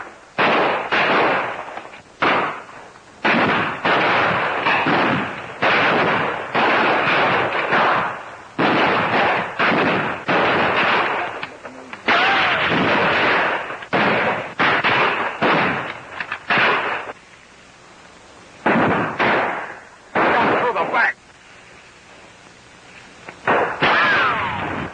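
Battle gunfire from a 1935 war film, with rapid volleys of rifle and machine-gun shots crackling in dense bursts and only short pauses between them, loud and continuous throughout.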